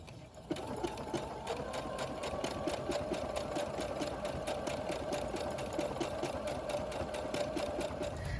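A sewing machine stitches an eye mask pillow at close range, running in a fast, steady mechanical chatter with no break for several seconds.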